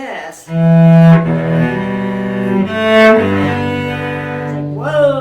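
A cello plays full two-, three- and four-note chords of "What Child Is This," rich sustained bowed harmonies, close and resonant, in slow successive phrases with no talking.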